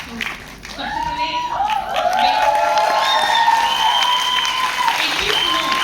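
Steady, loud applause from an audience at a women's empowerment programme, with dense clapping and some cheering building after a quieter first second and continuing throughout.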